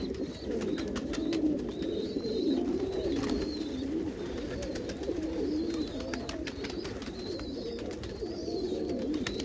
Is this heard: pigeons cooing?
yes